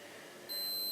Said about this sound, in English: Yes, we hear the beep. Beep, beep, beep.